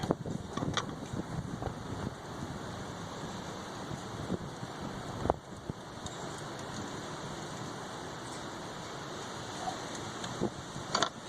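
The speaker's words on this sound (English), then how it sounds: "Oh, the wind's picking up." Steady outdoor wind gusting across the microphone as a broad, constant rush, heard while a Pontiac Grand Prix GXP has a sensor replaced, with a few faint clanks of tools and parts.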